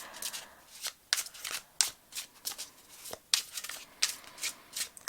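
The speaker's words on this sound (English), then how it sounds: "I have already shuffled the cards meditating on your group, but we are also going to do a bit more." Tarot cards shuffled by hand, a close run of soft riffling swishes and flutters in uneven bursts, with brief pauses between them and no voices.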